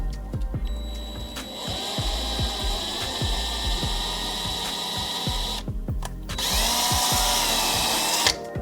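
Small drill enlarging screw holes in a drone frame's motor mounts, whining in short repeated bursts with spin-up and spin-down, close, then a louder sustained high whir near the end.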